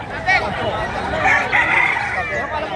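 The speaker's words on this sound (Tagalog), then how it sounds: "Ang gandang manok, oh." A native rooster in Calumpit, Bulacan crows nearby, its call rising over background noise and nearby chatter.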